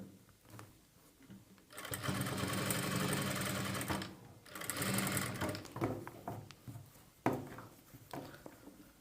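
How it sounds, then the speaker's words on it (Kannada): Sewing machine running in long sustained bursts as it stitches piping onto a blouse, loud and close, with short pauses between runs and no talking. "ಪೈಪಿಂಗ್ ಪಕ್ಕದಲ್ಲಿ ಕ್ಲಾತ್ ಮೇಲೆ ಬರಬೇಕು ತುಂಬ ನಿಧಾನವಾಗಿ ಸ್ಟಿಚ್ ಮಾಡಿ"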